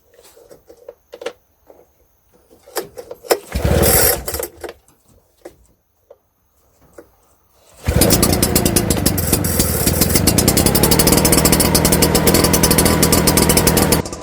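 A Cifarelli L3EDA motorized mist blower engine is started, with a few pulls and sputters before the small two-stroke catches and runs loud and steady, buzzing close by.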